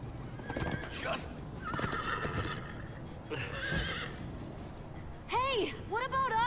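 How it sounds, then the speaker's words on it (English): Hoofbeats and game voices from a Minecraft Story Mode horse ride, ending in a loud, close neigh followed by a second whinny. "Slow down, horse!"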